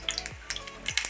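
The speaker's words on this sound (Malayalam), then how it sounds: "കടുക് നന്നായി പൊട്ടണം." Mustard seeds crackling in hot oil in a pan, a quick burst of sharp pops over a soft sizzle, close and fairly quiet.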